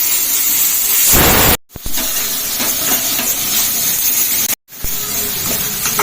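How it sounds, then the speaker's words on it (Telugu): A pressure cooker whistles loudly, releasing a steady rushing hiss of steam while dal cooks, with two abrupt silent breaks cutting into the continuous blast. "ఇంకా పప్పు కూడా 3 విజిల్స్ వచ్చింది."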